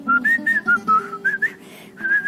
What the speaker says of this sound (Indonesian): Sambil nyuci, sambil bersiul-siul.